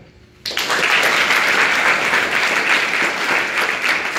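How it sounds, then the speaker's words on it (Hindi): Audience applause at an inter college event, starting suddenly after a brief quiet moment and then holding as a dense, steady wash of clapping from a large crowd. "तालियां।"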